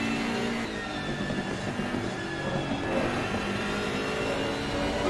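Race cars lapping Spa in a racing video game, including a Bentley and a BMW, with a steady, loud engine drone and revving throughout and no pauses.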